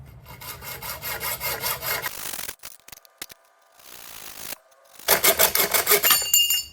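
A cheap curtain rod is sawn to length by hand in quick rasping back-and-forth strokes, pausing briefly with a few small clicks before a final burst of fast, loud sawing.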